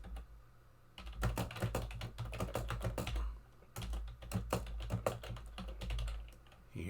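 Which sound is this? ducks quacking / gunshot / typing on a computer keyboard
typing on a computer keyboard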